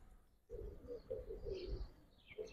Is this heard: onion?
no